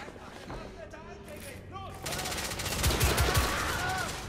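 Rapid gunfire from a video game firefight in The Order: 1886, a dense burst of shots that swells louder in the second half and carries on under background voices.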